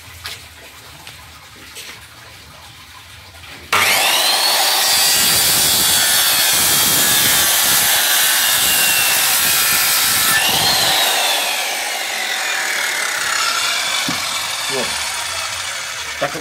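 A Ryu RCS 185-1 circular saw cuts through wood with a loud, sustained whine and rasp lasting many seconds, then spins down gradually after the blade exits the cut.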